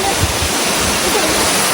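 A waterfall pours loud, dense rushing water, close and continuous with no break.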